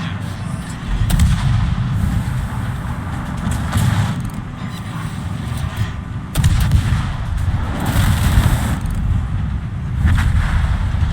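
Naval gunfire in a warship video game, with armor-piercing shells striking and bouncing off a burning ship: repeated heavy booming shots and impacts over a constant loud engine and sea rumble, with sharper blasts near the middle.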